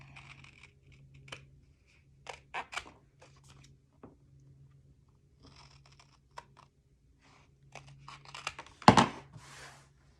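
Scissors snip the corners of a paper pocket in a few short, scattered cuts, with faint paper rustling between them and one louder crisp snip near the end.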